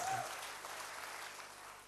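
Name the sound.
congregation applause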